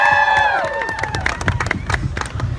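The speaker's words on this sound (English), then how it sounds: "a round of applause" A fan-convention audience claps and cheers, with whoops and shouts over scattered clapping; a sliding tonal voice-like sound fades near the start, and a loud, busy crowd fills the rest.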